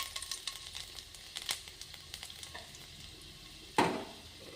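Garlic dropped into hot oil for vegetable momos, giving a quiet, crackling sizzle with light stirring scrapes and a louder burst of spatter near the end.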